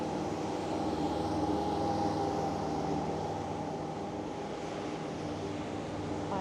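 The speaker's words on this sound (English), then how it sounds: "There is someone mowing the lawn around the caravans just behind me." Lawn mower cutting grass around holiday caravans at a Haven park: a steady, continuous engine drone at moderate distance, unbroken for several seconds with no talk over it.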